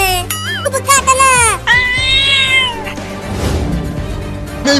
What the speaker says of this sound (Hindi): देखो, वो बड़ा बिल्ली हमें काटने के लिए आ रहा है